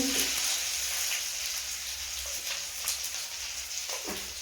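Onion, bay leaf and whole cumin sizzling in hot oil, a steady crackling hiss with faint scattered pops, heard alone.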